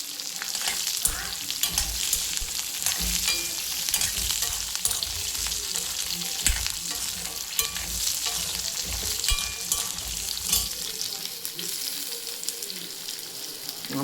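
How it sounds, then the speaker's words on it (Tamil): Onion, garlic and a tomato sautéing in oil in a pan, giving a continuous close sizzle with frequent clinks and scrapes of a stirring spoon. The sizzle thins out near the end. No voices. "இது நல்லா எண்ணெயிலே வதங்கணும்"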